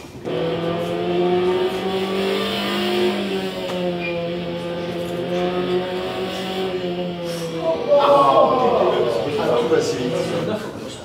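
A race car lapping the Budapest circuit, its engine holding a steady loud drone, then rising sharply in pitch as it accelerates near the end; someone talks over it.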